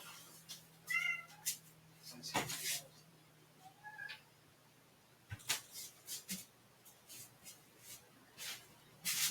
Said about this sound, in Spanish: Ahora, mi gato.